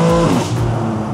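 Race cars sweep past on a circuit, their loud, close engine notes rising and falling as they go by in quick succession.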